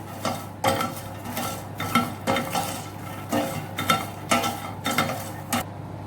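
Salt being stirred into butter popcorn in a pot, a series of about seven rhythmic scraping, rustling stirs with utensil clinks, close and clear with no talking.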